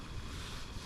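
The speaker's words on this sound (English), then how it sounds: "Super windy this morning." Strong morning wind buffets the microphone in a Cherokee National Forest wilderness, making a brief, dense, roaring rush with no voices.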